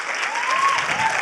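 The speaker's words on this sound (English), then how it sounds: "So please give Norena a round of applause for her generosity" A short burst of audience clapping, many hands applauding together at an even, moderate volume.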